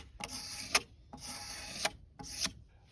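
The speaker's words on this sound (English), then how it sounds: "I use a window cleaning razor blade" A window-cleaning razor blade scrapes varnish off a wooden mid-century coffee table in three separate close rasping strokes, each ending in a sharper scratch, with quiet gaps between.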